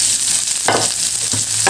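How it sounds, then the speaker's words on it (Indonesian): Shallots and garlic frying in hot oil, a loud continuous sizzle close to the pan, with a few bursts of stirring and scraping as the pieces are moved around. "kita goreng dulu ya. Ini bawang merah, bawang putihnya"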